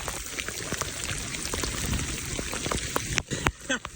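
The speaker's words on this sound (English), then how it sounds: "And the rain's back." Heavy rain pours down steadily on a road during a solo bicycle ride, a dense hiss with patter that stays even, then breaks into a few sharper bursts near the end.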